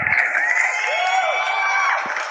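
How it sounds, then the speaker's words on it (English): A loud crowd cheers and whoops continuously, with a dense roar of voices and a few high shouts rising above it. "what I like to do is give a round of applause"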